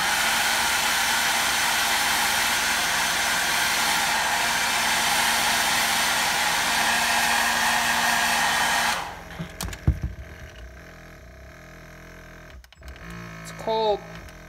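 A hair dryer or heat gun blows loudly and steadily while heat-setting paint on an old swim bait, then switches off, leaving quiet handling clicks and a brief voice.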